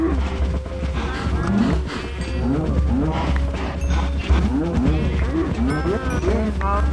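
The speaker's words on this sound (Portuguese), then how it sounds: "é muita vaca, galera." Many cows mooing in Minecraft, a dense overlapping chorus of repeated short moos from a large herd, loud and continuous over a steady low hum.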